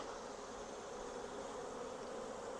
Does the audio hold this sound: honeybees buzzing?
yes